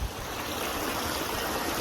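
Steady rushing water of a backyard pondless waterfall, a continuous broadband splash and burble that stays even and close throughout, with no voices.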